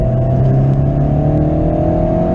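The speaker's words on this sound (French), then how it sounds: "Petit à petit, on accélère sur l'extérieur." A car on a race track accelerates with a loud, close engine drone that climbs slightly in pitch and holds steady throughout, with no talk.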